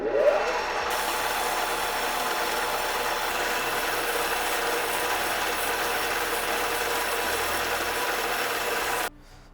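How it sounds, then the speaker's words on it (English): 240 grit sandpaper rubbed against a metal rifle part, a steady, close, continuous rasping scrub that holds for about nine seconds, then stops abruptly. "We're going to take a little bit of 240 grit sandpaper first."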